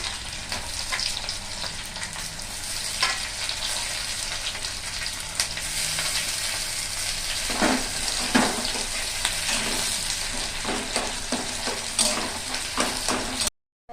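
Onions are tipped into frying chicken, setting off a steady, close sizzle with scraping stirs and a few sharper crackles, no voices.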